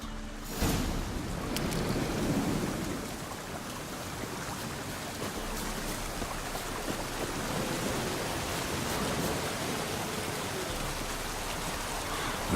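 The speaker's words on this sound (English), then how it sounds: "Looks like rain." Steady rain hisses continuously in The Witcher 3: Wild Hunt, a broad wash of falling water with a louder swell near the start and no distinct thunder clap.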